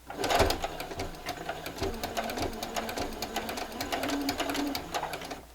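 A sewing machine stitches a straight line on a quilt with a fast, steady rattle of needle strokes. It runs close and continuous for the whole stretch, with no talk.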